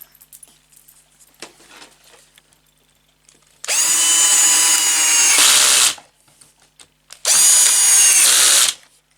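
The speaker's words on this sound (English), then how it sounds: "Now we just need to screw one more bit in" A power drill drives screws into the wooden frame of a child's art easel, two loud sustained whirring bursts of about two seconds each, close by, separated by quieter handling sounds.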